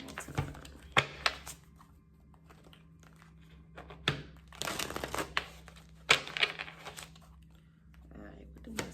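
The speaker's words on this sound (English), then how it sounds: "Shuffle one more time." Tarot cards are shuffled in quiet, scattered bursts, with soft riffling and papery flicks heard close against near silence.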